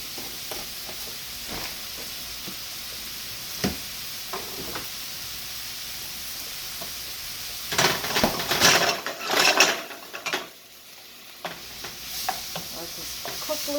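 Chopped taco meat with garlic fries in a pan, a steady sizzle under scraping stirs, with a louder burst of spatula clatter partway through and no talking.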